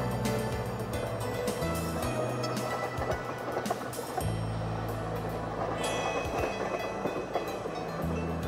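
Coast Starlight passenger train rolling along the rails in California, a steady loud rumble with low droning tones and rhythmic clickety-clack of wheels throughout, no voices.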